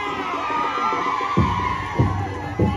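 Cheering crowd at a city civic parade in Pasig greets a Zumba group from Barangay Manggahan, a steady roar of voices with a few louder whoops rising near the end.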